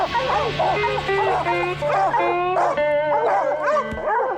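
Several hunting dogs bay and yelp excitedly at close range at a treed mountain lion, overlapping barks and howls in a steady, continuous chorus.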